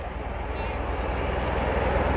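Tiltrotor aircraft making a jump takeoff at an airshow, a loud, steady broadband roar of rotors and engines that holds throughout, with a commentator's voice faintly under it.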